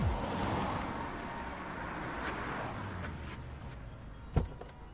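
Steady road traffic in a jam in Bombay, a continuous wash of idling and moving vehicles with engine rumble throughout and one brief sharp knock near the end.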